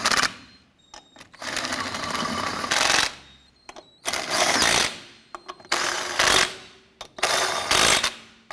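Lug nuts on a 1993-1997 Ford Ranger wheel are driven down by a power tool: five loud, buzzing mechanical bursts, each lasting about a second, separated by short pauses and close to the mic.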